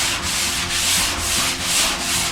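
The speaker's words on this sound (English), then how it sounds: "just alternate between, this is my 100 grit sand block here" A 100-grit sand block rubs back and forth across a drywall surface, smoothing joint compound edges, in steady repeated strokes roughly every half second, close and fairly loud with a soft hissing scrape.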